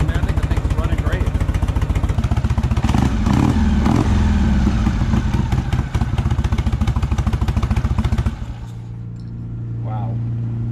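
A 1970s Shovelhead chopper motorcycle engine runs loud and close with a steady rough idle, swelling in a couple of revs before cutting to a low rumble near the end; voices talk over it.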